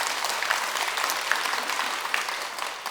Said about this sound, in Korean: 한평군 농민들에게 여러분 저 박수 한번 쳐요